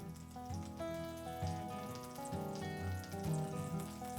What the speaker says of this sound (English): I'm gonna take about 1/2 tablespoon of butter and add it to the pan over medium-high heat